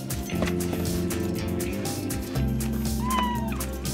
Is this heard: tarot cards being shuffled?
no